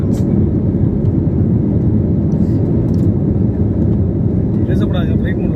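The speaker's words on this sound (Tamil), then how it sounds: "பாருங்க எவ்வளோ ஒரு வேகமாக போய் ப்ரெஷர் இந்த ஃப்ளைட் வந்து மூவ் ஆகுதுன்னு சொல்லிட்டு பாருங்கள்" An IndiGo passenger plane accelerating on takeoff, heard from inside the cabin as a loud, steady engine roar and rumble that holds throughout, with faint voices over it.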